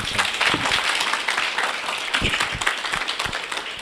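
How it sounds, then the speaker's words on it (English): Audience applause at a talk on rest, a dense steady wash of many hands clapping together for the full stretch, loud and close with little else audible. "One round of applause for Sayed"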